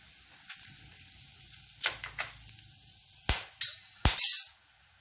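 Bursts of sharp sizzling as cinnamon, cloves and fennel powder hit hot oil for chana masala, several short crackling surges separated by quiet moments.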